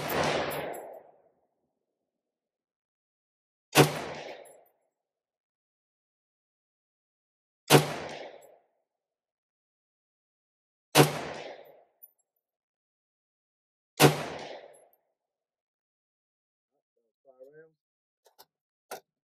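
An 18-inch .308 AR-10 rifle fires five sharp, loud shots spaced roughly three to four seconds apart, each followed by a short ringing tail, then a few faint clicks and handling noises.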